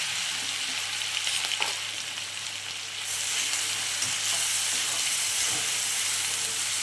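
Mustard seeds, cumin and ground spice paste hitting hot oil for batata vada: a steady hiss that swells louder about halfway through, with a few faint crackles and stir scrapes, no talking.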